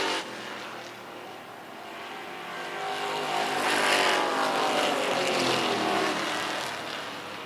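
Race cars jostle for position in the middle of the pack late in a short-track race, a dense, steady roar of several engines that swells slightly toward the middle and then eases.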